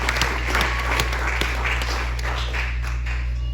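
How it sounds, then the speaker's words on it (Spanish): A church congregation claps together in a steady, dense round of applause that fills the room at moderate volume, with a low hum running underneath. "Denle un aplauso a Cristo"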